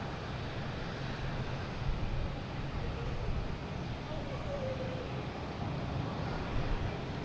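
A Virgin airliner taxis at Boston Logan Airport, a steady distant jet engine rumble and whine spread across the whole stretch, moderately loud with small swells.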